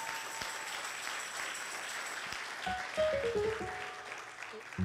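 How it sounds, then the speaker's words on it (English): A church congregation claps at a Black History program after a baptism: moderate, steady applause, with a few sustained keyboard or organ notes rising over it partway through. "Give him a big round of applause."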